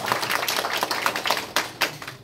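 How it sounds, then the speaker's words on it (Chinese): An audience gives a round of dense, steady clapping at a public event honouring long-term care workers, the applause rising and falling in irregular bursts close by, with no talking over it. "我们是不是给我们大家自己一个热烈的掌声"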